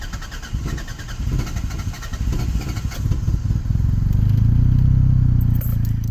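A Toyota engine with a faulty cold start injector cranks and fires on its first start of the day, stumbling roughly before building into a loud steady idle close by.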